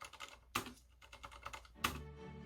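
Typing on a silent red switch mechanical keyboard, a Varmilo or Leopold, gives soft, muffled keystrokes in a quick irregular rhythm, with two heavier spacebar thumps standing out, close and quiet.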